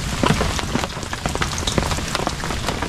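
Steady rain falls on a flooded fish-trap site, a dense close patter of drops with scattered sharper splashes throughout and no voices.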